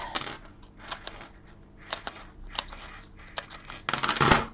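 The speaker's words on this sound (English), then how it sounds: "Bring in my scissors." Scissors snip through paper in a series of short, crisp cuts, close and clear, ending in a quicker flurry of snipping.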